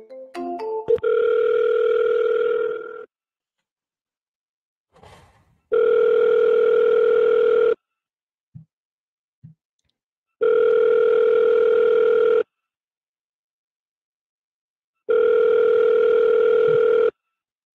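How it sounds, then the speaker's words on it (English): An outgoing telephone call rings back in long, steady tone bursts of about two seconds separated by silent gaps, loud and clear, preceded by brief dialing beeps and with no talking. "Okay, let's give him a call."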